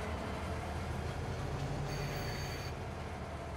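A train in Farming Simulator 22 on the Rouge River Valley map rolls along with a steady low rumble and rail clatter, plus a short metallic wheel squeal partway through, with no talk.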